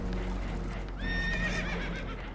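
Spooked horses neigh in Red Dead Redemption 2 while aboard a damaged boat taking on water. A loud, shaky whinny rises over constant rumbling water and engine noise, with hooves clopping underneath.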